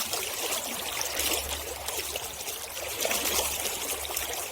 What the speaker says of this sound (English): It won't be long before the water's over the top of my boots, the way it's rushing hard against them.